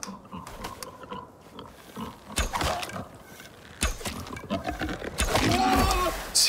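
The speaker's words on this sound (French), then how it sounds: "C'est quoi ces cochons?" Pigs grunt in the survival video game Icarus, rough snorting bursts coming in irregular clusters, growing louder and closer toward the end against a quiet outdoor backdrop.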